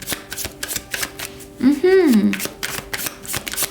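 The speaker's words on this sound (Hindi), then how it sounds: "तो चलिए शफल कर लेते हैं स्कॉर्पियो वृश्चिक राशि के लिए" Tarot cards being shuffled by hand, with a series of crisp, rapid riffling and slapping bursts close by, and a short voiced sound in the middle.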